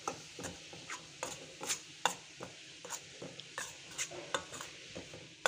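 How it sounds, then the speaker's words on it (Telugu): Wheat flour is roasted in a pan while a spoon stirs it, giving soft scraping strokes and light clinks that repeat every half second or so, close and fairly quiet, with no talking. "ఇప్పుడు గోధుమ పిండి వేసి దీంట్లో వేయించుకుందామండి."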